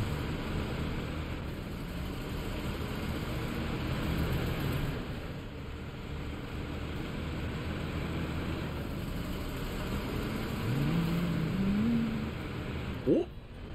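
A truck engine in SnowRunner rumbles steadily at a low, even pitch while the truck drives on, then rises briefly near the end, with no voice over it.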